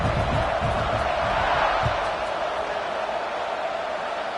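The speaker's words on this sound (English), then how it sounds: "this crowd is feeling themselves after that last drive" A football stadium crowd at a college game roars in a broad, sustained wash of noise, loud and steady, with a broadcast voice faintly under it.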